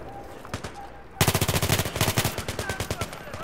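L85A2 assault rifle fired in Battlefield 3, a few single shots followed by a loud, rapid automatic burst of evenly spaced cracks lasting about two seconds.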